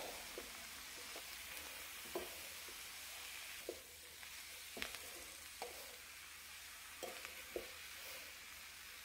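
Fenugreek leaves and potatoes are stirred in an open pan over low heat, giving a soft, faint hiss broken by sparse scrapes and clinks from the spoon at irregular intervals.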